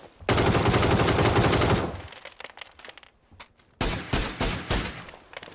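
Gunfire in the battle royale game PUBG: a long, loud burst of rapid automatic shots, then scattered single cracks and a final flurry of several sharp shots.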